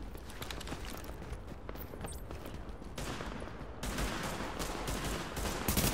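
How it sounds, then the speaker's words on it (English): Rapid gunfire rattles in a video game as shooters fire at supplies, dense continuous bursts of shots at moderate distance, growing a bit louder toward the end. "And why are they shooting at the supplies?"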